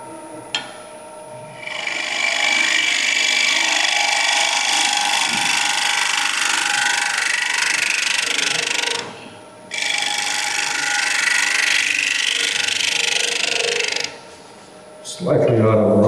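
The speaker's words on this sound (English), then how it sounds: "put it back on the lathe. And what I'll do is just shear scrape a tiny bit." A wood lathe spins a slightly out-of-round turned piece while a tool shear scrapes it, giving a steady broadband rasping hiss that runs for several seconds, pauses briefly, then resumes, with a machine hum underneath.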